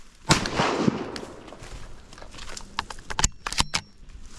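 A single sharp shotgun blast fired at gadwall ducks on a warm-weather Central Texas duck hunt, loud and close, followed by rustling, clicks and light handling noises outdoors.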